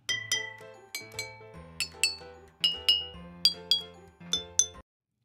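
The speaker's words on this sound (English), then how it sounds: "Strike the bottle using a stick made of metal or xylophone mallet and listen carefully to each sound." Water-filled glass bottles are struck one at a time with a metal stick, giving about a dozen bright ringing clinks at different pitches in an uneven melodic sequence, each chime decaying cleanly with no talking.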